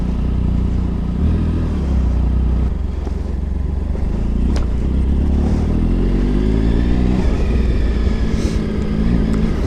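A heavy 2013 Triumph Tiger Sport 1050 motorcycle cruises along the motorway with a continuous loud roar of engine and wind, and the pitch shifts slightly throughout.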